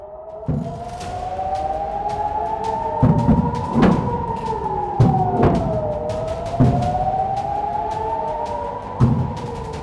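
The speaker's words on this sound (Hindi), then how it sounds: "तेल अवीव और शहर के उत्तरी इलाकों में भी ड्रोन हमले की चेतावनी वाले सायरन सुनाई दिए" Drone attack warning sirens wailing across Tel Aviv, Israel, several loud overlapping tones rising and falling in slow sweeps, with occasional sharp bangs or thumps punctuating the continuous howl.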